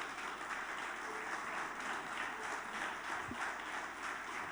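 A church congregation claps steadily for the Lord on a Sunday morning. The dense, even applause stays fairly distant and holds at a constant level throughout.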